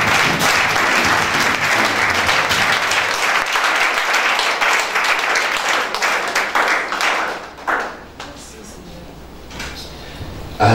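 A church congregation applauding, dense sustained clapping that fills the space before thinning out, with voices calling over it.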